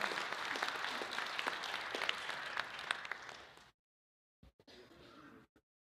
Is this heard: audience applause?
yes